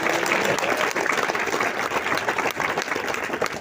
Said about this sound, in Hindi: ताली बजा सकते हैं उस स्लाइड के लिए।